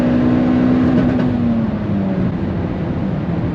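A Mitsubishi Evo engine held on two-step launch control at about 5,500 RPM makes a loud, steady droning hum close by. The pitch sags slightly partway through.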